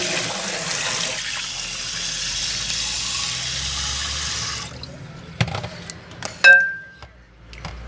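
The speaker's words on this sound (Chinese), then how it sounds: "又揾清水沖下佢。" Chicken wings are rinsed under a running kitchen tap, a steady splash of water for several seconds that then stops, leaving a few drips, clinks and a short squeak.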